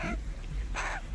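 A rescued baby crow lets out two brief, raspy calls, close by and moderately loud, one at the start and one near the end, with no talking.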